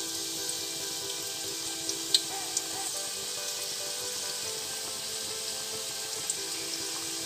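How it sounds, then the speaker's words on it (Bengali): Potato noodle finger fries sizzling in hot oil, a steady bright hiss and crackle with a few sharper pops, close and continuous. "এই যে আমি এগুলো একটা একটা করে এখন তেলে ছেড়ে দেবো"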